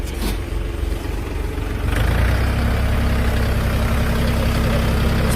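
A Dongfeng 244 G2B three-cylinder mini tractor engine idles nearby with a steady low rumble that grows slightly louder and rougher partway through, with no talking.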